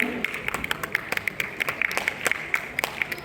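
Scattered, uneven hand claps from a small audience at an evening cultural performance honouring musicians, fairly faint and thin, over a steady ringing tone in the hall.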